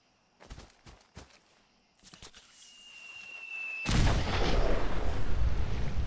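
Gunshots ring out in Fallout 4, a few sharp reports near the start and then a dense, roaring burst of fire and rumble that builds and holds loud to the end.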